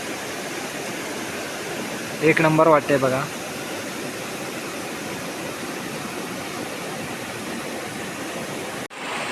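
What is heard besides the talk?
river flowing gently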